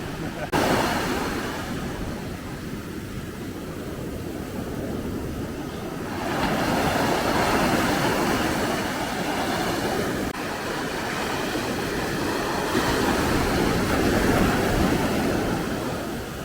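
Ocean surf at El Paredon beach, Guatemala, roars steadily with a broad, wind-blown wash that swells and eases as waves break continuously nearby.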